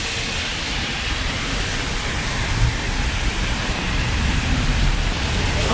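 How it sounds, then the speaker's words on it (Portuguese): Steady, dense rain pouring down continuously in Bangu, a broad hissing wash that fills the whole clip without any voices. "tá uma chuva maneirinha"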